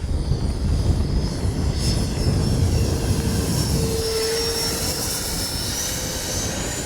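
A small RC jet engine on an FMS 64mm Futura whines steadily as the plane passes overhead, its pitch shifting as it moves away, loud and continuous without talk.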